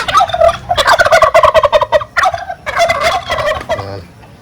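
A dense, continuous chorus of poultry calls from native and Shamo hens in a coop, rapid overlapping clucks and gobbling cries, loud and close, trailing off at the end.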